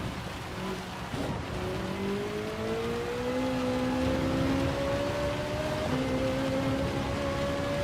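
A Ferrari race car engine in Gran Turismo 7 climbs steadily through third gear, dips briefly at a shift, then rises again, all over a constant wash of heavy rain spray.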